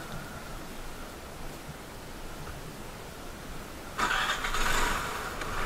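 A scooter engine starts up during heavy rain: a low, steady background rumble gives way after about four seconds to a sudden loud surge of broadband engine noise that swells and then settles.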